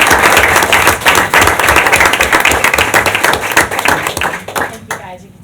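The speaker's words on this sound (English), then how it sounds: "So another round of applause for our amazing." Loud, sustained applause at a board of education meeting, many hands clapping steadily for about five seconds before stopping abruptly.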